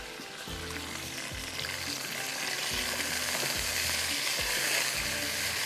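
Masala frying in a pan, sizzling steadily throughout, with a spoon scraping and stirring it in repeated strokes roughly every second; close and fairly loud, no voices.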